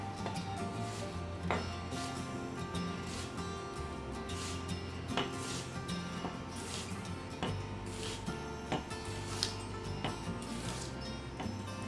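A knife slices an onion into thin slices on a board, giving a steady series of soft, crisp cuts close by over a low background hum, with no talking.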